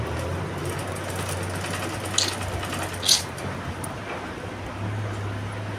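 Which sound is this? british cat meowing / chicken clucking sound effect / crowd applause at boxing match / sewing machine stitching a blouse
sewing machine stitching a blouse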